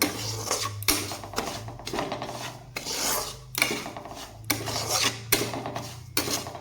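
Semolina roasts in ghee in a pan for lobongo lotika pitha, stirred with rhythmic rasping scrapes every second or so against the metal, over a low steady hum.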